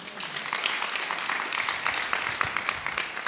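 A church congregation applauding the Lord Jesus, with steady, dense clapping from many hands at moderate volume throughout.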